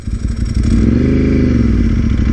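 A Ducati 748R motorcycle ridden on the Yabitsu mountain pass in Japan gives a loud, close engine drone that swells into a rising rev, with wind rush over the rumble.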